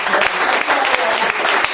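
A business networking group meeting claps loudly and close, a sustained burst of applause filling the room without any talking.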